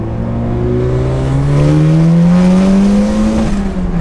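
A tuned car engine revs up with a rising, throaty whine, pitch climbing steadily, then easing off; loud and close.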